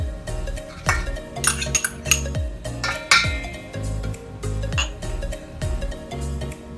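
Metal spoon clinking and scraping against a bowl while tandoori chicken marinade spices are mixed at home, with irregular close rings and knocks and no voices.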